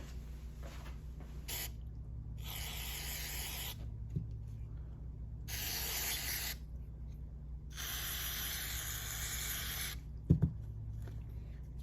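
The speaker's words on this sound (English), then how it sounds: "I'm going to lightly spray some carb cleaner in the high and the low jet" Three short bursts of carburetor cleaner aerosol spray hiss into a chainsaw carburetor's jets, each a second or so long, separated by quiet, with a faint clink near the end.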